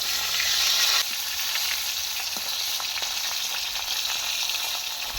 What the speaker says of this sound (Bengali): মা এই মাছ ভাজছে।